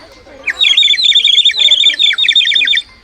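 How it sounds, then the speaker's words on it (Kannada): A water-filled clay bird whistle at a flower and fruit show warbles in a bright, rapid chirping trill, loud and close, in bursts for about two seconds. "ಅದು ಸ್ವಲ್ಪ ನೀರು ಹಾಕುವುದಿದ್ರೆ ಅಕ್ಕಿ ಕೂಗೋ ಥರ ಸೌಂಡ್ ಬರುತ್ತೆ ನೋಡಿ"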